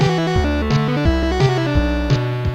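A chiptune-style tracker song plays back at double speed in OpenMPT, its synth bass and melody notes stepping quickly with short percussive hits every fraction of a second, loud and continuous with no voices.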